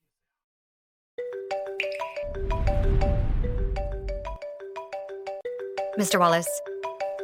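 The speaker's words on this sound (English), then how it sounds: "I'd advise you to answer that phone call." A phone rings with an incoming call, a repeating melodic ringtone that enters after a moment of silence and keeps going as someone speaks briefly over it.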